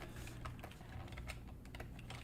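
Fingers type on a computer keyboard in quick, irregular clicks, quiet and close, with no speech over them.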